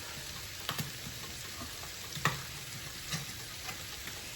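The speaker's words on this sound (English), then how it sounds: "Get that all mixed in with your onions." A can of Campbell's French onion soup is stirred into onions in a pan, with a steady low sizzle and a few soft scrapes of the spoon, nearby and fairly quiet, without talk.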